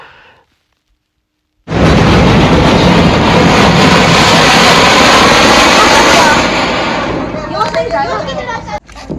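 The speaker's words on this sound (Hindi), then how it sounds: "एक रॉकेट भाई मैंने भी फिर आखिर में छोड़ दे दिया।" A firework rocket set off during Diwali celebrations bursts in with a sudden loud roaring whoosh after a near-silent start, then sustains a broad hissing rush for several seconds before fading into crackles and chirping noises.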